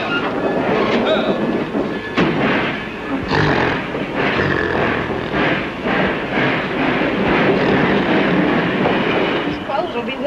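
Train running on rails as a sound effect in a 1934 radio mystery drama set aboard a private rail car: steady loud rumbling with rhythmic clatter and occasional sharp clicks, continuous throughout.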